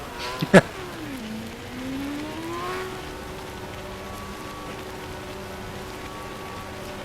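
Rain falls in a Formula racing video game at the Italian Grand Prix at Monza, a steady soft hiss under a car engine tone that drops and then holds steady, with a brief sharp knock near the start and no talking.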